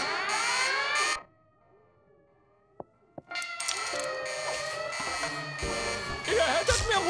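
In a German-dubbed Daltons cartoon episode, a loud electronic alarm rings steadily, breaks off into near silence with a couple of sharp clicks, then returns with louder cartoon commotion and buzzing tones.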